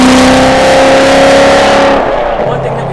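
A supercharged Hennessey HPE1000 Z06 Corvette drives under load, its engine loud and close with a steady droning pitch that eases off partway through as the car settles.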